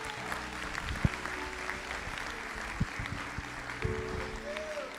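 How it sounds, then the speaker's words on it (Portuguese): A church congregation claps steadily in a continuous wash of applause, moderately loud and even throughout, with a few sharper thumps and faint background voices. "E um aplauso forte para o Senhor Jesus."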